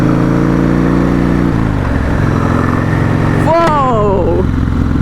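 A loud, close Harley V-twin engine on a Buell S1 Lightning motorcycle rumbles steadily and shifts pitch partway through, while a voice cuts in near the end.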